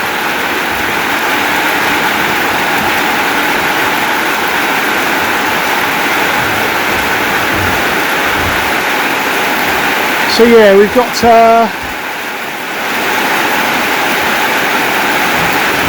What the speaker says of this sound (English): quite a lot of water coming off the roof